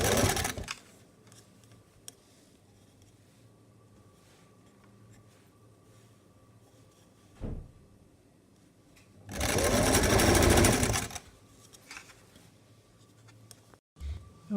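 A sewing machine stitches through dress fabric in one loud, close burst of rapid whirring lasting about two seconds, with quiet handling noises and brief thumps before and after.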